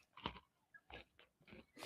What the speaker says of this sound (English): One crunch came through.